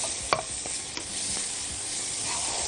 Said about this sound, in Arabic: هنقلبها لحد لما البصل يدبل